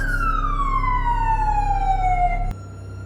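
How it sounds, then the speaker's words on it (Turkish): A police siren in the Minecraft video game sweeps in a single long descending wail, loud and clear over a low hum, then cuts off abruptly. "Bir dakika bir yerden polis sireni sesi yine geliyor."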